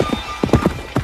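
Horse hooves clip-clop as a knight rides in a film scene, several sharp, loud hoofbeats in an uneven galloping rhythm, close and unaccompanied by talk.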